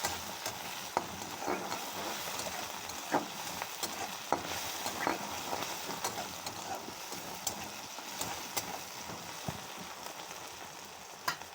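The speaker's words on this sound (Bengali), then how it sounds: "পেঁয়াজটা ভালো করে ভেজে নিয়েছিলাম" Chopped onions fry in a pan on a kitchen stove in a home cooking setting, giving a steady, dense sizzle with occasional crackles and stirring scrapes, close and continuous, with no talking.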